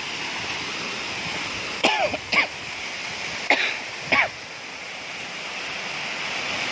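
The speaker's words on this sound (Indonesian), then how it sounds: "Maaf nih agak batuk." Four short coughs in two pairs, fairly close, over a steady rushing background like surf or wind.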